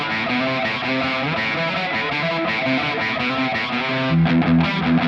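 Fender Player Plus Stratocaster electric guitar with noiseless pickups played palm-muted through a high-gain distorted tone, a steady chugging riff that grows heavier and lower near the end, loud and close with no talking.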